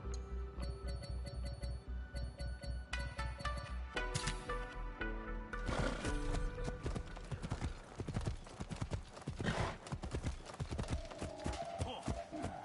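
Galloping horse hooves in the video game Assassin's Creed Shadows, a dense, rapid clip-clop that grows prominent after a stretch of chiming game music and carries on loud and close, with faint voice now and then.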